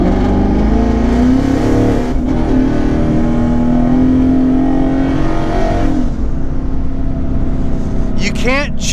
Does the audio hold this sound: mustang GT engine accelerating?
yes